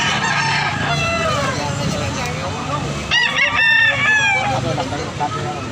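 Fighting roosters crow repeatedly, several calls overlapping near and far, over a noisy background with scattered chatter.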